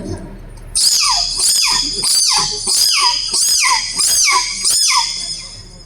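A voice mimics a dog's barking on stage before an audience, in a rapid series of about eight sharp, yelping barks, loud and close, with a brief murmur before them.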